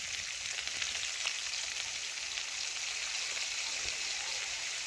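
Sliced kakrol (spiny gourd) sizzles steadily in hot oil, a dense, even crackle close by with no pauses or voices.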